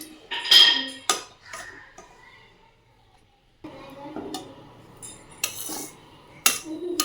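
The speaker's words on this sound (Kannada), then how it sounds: "ಚೆನ್ನಾಗಿ ಫ್ರೈ ಮಾಡ್ಕೊಳ್ಳೋಣ." Chiroti rava (fine semolina) roasting in ghee in a pan, stirred with a metal spoon that scrapes and clinks against the pan in repeated close, sharp strokes with a quiet gap midway.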